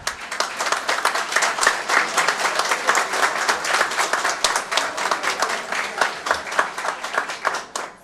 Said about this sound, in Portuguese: Gostaria de pedir uma salva de palmas para todos os idosos aqui presentes.